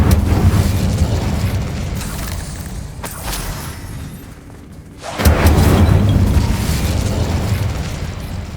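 An Incendio fire spell is cast in Hogwarts Legacy during a fight with goblin loyalists. It makes a loud roaring burst with a heavy boom, then a swelling rush of fire and rumble that lasts to the end.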